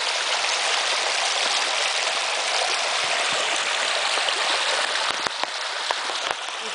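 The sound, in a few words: heavy rain and runoff water in Queensland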